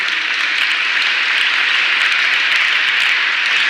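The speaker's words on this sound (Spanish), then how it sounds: "¿Quiere darle un aplauso al Señor?" A church congregation applauds for the Lord, a dense, loud, steady wash of many hands clapping throughout with no pauses.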